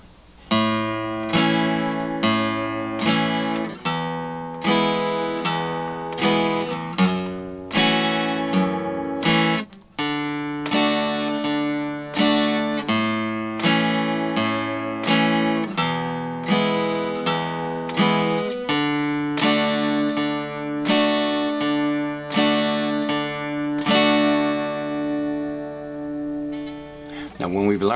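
Strummed acoustic guitar works through a song's chord progression in an alternating-bass pattern, bass notes picked between bright chord strums, steady and close for nearly half a minute, then a final ringing chord.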